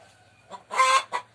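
A laying hen with brown plumage gives a few short, close clucks in quick succession, with a quiet low hum in the background.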